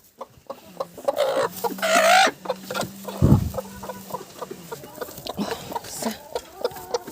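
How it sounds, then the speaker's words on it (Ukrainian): A broody hen sits on Australorp eggs and gives low, close clucks and soft grumbling calls that come and go irregularly. Brief rustling and a few faint knocks are heard between them. "Це вона сидить на яйцях австралорпа. Квочка."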